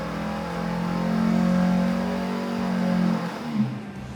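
A car engine revs at full throttle on a dyno during a computer-controlled sweep from 2,500 toward 5,500 RPM, a loud steady drone climbing slightly in pitch before easing off near the end.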